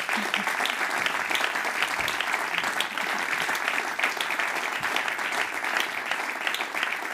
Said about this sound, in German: Und mit ein bisschen einem rechten Applaus